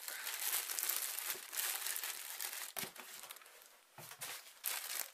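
Gift-parcel paper wrapping being crumpled up close, irregular crinkling bursts and rustles with short pauses between handfuls.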